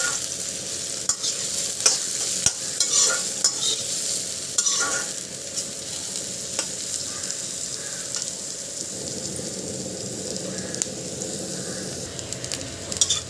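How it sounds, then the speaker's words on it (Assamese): Onions fry in a pan for a jackfruit dish: a steady, loud sizzle with occasional clicks and scrapes of stirring, and no voices. "পিঁয়াজখিনি ভাজি এতিয়া অকণমান গল্ডেন কালাৰ নিচিনা হৈছে"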